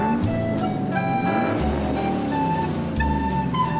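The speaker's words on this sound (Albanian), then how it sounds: "Makina." A car's engine hums steadily for a few seconds, with a short toot, over a light musical backing.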